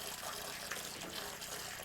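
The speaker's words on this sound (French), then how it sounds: "j'entends encore couler l'eau. Fermez le robinet" Water gushes steadily from a broken indoor tap, a continuous rushing splash with no pauses, close by and fairly loud.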